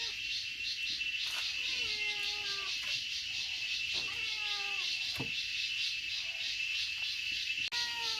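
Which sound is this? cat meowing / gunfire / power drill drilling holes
cat meowing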